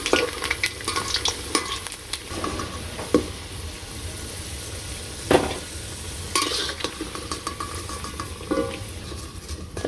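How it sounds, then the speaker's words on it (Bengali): Potatoes fry in oil in a village kitchen, sizzling steadily up close while a spoon stirs and scrapes the pan in scattered clattering bursts. "তো এই যে আমার আলুগুলো প্রায় হয়ে গেছে, লাল লাল ভাজা হয়ে গেছে।"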